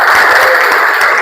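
Students in a classroom clap together, loud and close, in a brief burst of full applause.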